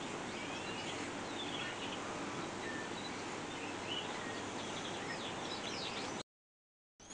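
Greenfinch pairs in an aviary flight give faint, scattered high chirps and twitters over a steady background hiss, with a brief dropout near the end.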